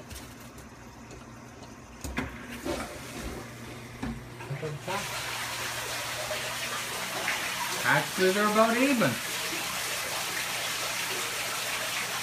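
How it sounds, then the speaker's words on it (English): A newly set up aquarium pump pushes water through a sump, a steady rushing gush that swells in after a few seconds and carries on beneath short bursts of people talking. "We're gonna plug in the pump and see what the valves need to do."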